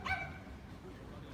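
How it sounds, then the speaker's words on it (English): A dog barks somewhere off in the distance outdoors during a springtime cherry-blossom walk, faint and partly buried under steady ambient noise and nearby talk. "That dog barking is somewhere over there."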